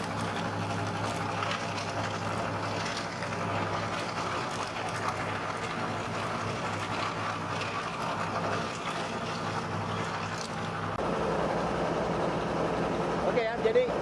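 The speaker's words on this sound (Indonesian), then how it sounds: "setelah botol plastiknya masuk ke dalam mesin kapasitas 1 ton per 8 jam kerja, ini akan keluar seperti ini ya cacahannya." A plastic bottle shredding machine with a capacity of one ton per eight hours runs with a steady droning motor hum and a mechanical rattle throughout, while someone talks over it.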